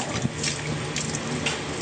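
Water is poured steadily into a DIY solar pump to prime it, a continuous close gushing splash lasting a couple of seconds.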